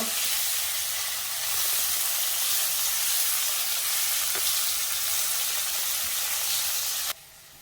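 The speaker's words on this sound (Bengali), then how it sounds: "করলাটা লাল করে ভেজে তুলে নেব।" Bitter gourd (karela) fries in hot oil with a loud, steady sizzle and hiss and faint popping, then stops abruptly near the end.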